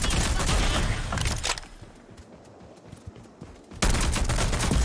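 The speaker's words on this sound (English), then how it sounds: "Oh, the minigun." Sustained minigun fire in the shooter Rogue Company, a loud, dense roar at the start that drops away to quieter scattered shots and then bursts back in at full volume.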